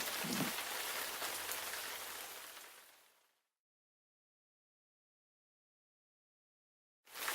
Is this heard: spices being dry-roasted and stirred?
no